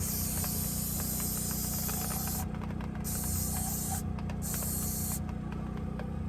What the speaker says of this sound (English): As you can see, it's getting a lot cleaner just with spraying it.